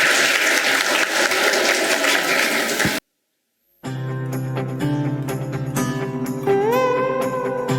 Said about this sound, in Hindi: तालियों से इनका उत्साहवर्धन कीजिए।